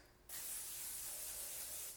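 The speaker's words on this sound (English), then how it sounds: "what I use is cooking spray, okay, to grease my pans" A short burst of aerosol cooking spray hisses continuously for well over a second after a brief quiet start, close by, greasing 8-inch non-stick cake pans.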